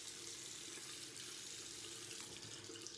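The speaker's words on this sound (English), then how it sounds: "I'm gonna add a tad bit more water" Tap water runs steadily into a sink as more water is added to a shaving soap lather, a continuous close splashing hiss with no talking.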